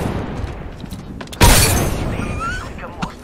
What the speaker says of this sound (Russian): Кидаю осколочную!